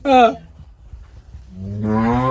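A cow moos twice close by: a short, higher call, a pause, then a longer, deeper drawn-out moo.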